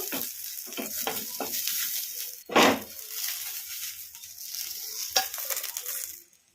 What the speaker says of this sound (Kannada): ಹಸಿಮೆಣಸಿನ್ಕಾಯಿ ಚೆನ್ನಾಗಿ ಫ್ರೈ ಆಗಿದ್ದಾವಲ್ಲ